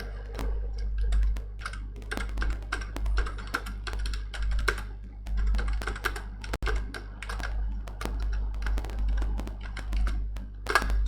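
Python code being typed on a computer keyboard: a steady, close patter of key clicks with irregular rhythm and short pauses, one sharper tap standing out, no voices.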